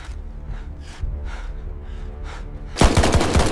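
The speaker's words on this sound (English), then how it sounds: "The guards were shot before they could react." Dramatized gunshots as guards are shot, a series of muffled, evenly spaced bangs over a low rumbling bed, ending in a louder, denser burst of fire.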